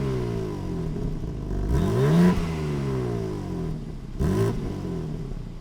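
A 2022 BMW M4 Competition engine idles with a deep burble, then revs up sharply twice, each rise and fall heard close by with no voices.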